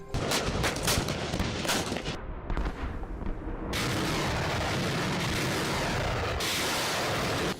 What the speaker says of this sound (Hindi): जिसमें चले बम और गोलों की आवाज सुनकर खुद ईरानी जनता खौफ में है।